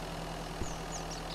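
A vehicle engine idling in the MIST Survival game, a steady, faint, low drone held evenly throughout with one small knock partway through.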